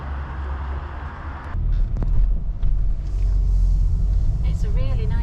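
Low rumbling road noise inside a moving van, steady and close, growing heavier partway through, with a voice talking over it.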